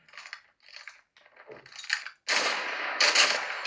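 A special weapon fires in a mobile shooting game played on a Redmi Turbo 3 phone. A few short, sharp bursts come first, then a sustained loud volley of rapid shots near the end.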